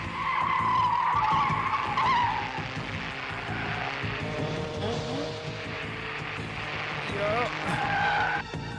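A car skids and its tires squeal as it is spun around, a loud, sustained screech with whining tones that rises and falls over several seconds and stays close throughout.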